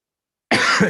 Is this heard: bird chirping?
no